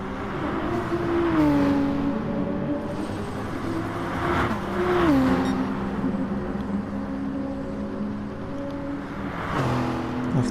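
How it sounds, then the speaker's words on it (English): Gr.3 race cars in Gran Turismo Sport drive around the St. Croix circuit, with engine tones rising and falling through repeated gear shifts and sustained, moderately loud acceleration. "Hardy and Cool chasing out, giving chase"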